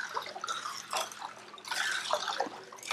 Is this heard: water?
yes